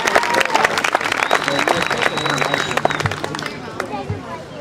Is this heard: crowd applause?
yes